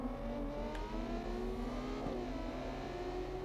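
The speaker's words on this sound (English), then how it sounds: "I definitely hear a vehicle in the distance." A loud car or truck engine revs outside at a distance, a steady droning roar with a low rumble throughout, heard alone without talk.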